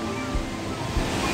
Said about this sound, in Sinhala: මේ තමයි රම්බෝ දැල්ල.